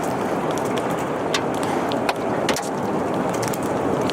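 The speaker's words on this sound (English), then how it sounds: "Ones moving through trees, like this one here, get louder and can sound more like a jet engine." A tornado moving through trees, a continuous loud, broadband roar like a jet engine, steady throughout with faint crackles on top.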